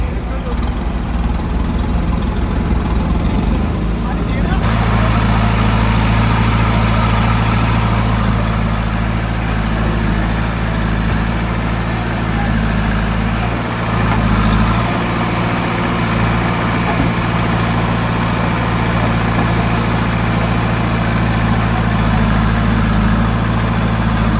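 A tractor engine runs loud and steady in gear while pulling a trolley stuck in soil during earthwork, a heavy continuous drone that shifts slightly in pitch partway through, with possible voices underneath.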